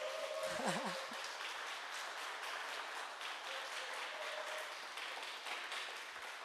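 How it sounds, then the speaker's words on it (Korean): Audience at a theatre award ceremony applauds past award winners as they stand, a soft, steady spread of clapping with a brief voice or tone early on. "여러분 박수 한번 부탁드립니다"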